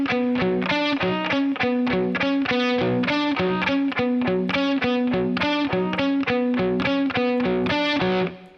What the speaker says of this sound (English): In this verse, there'll be two guitars playing.